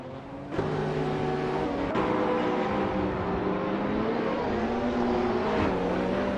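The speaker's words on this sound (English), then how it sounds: "H2 Hova is driving a Dodge Viper SCR, known for its raw power and aggressive handling." Dodge Viper SCR race car engine in a racing video game, a steady, loud, buzzing drone that climbs and shifts pitch as the car holds speed, close and continuous without speech.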